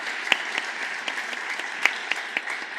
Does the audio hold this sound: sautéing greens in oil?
no